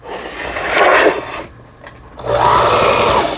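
A repaired Brother home sewing machine winds bobbin thread, its motor whirring loudly in two long bursts with a brief quieter pause between them, close and with no talk.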